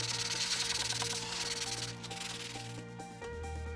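Steady rubbing of fine 320-grit sandpaper by hand on automotive paintwork, a continuous gritty hiss with a quick back-and-forth rhythm, close up and without talking.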